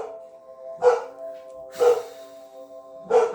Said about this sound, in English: My dog's going nuts, so 1 second.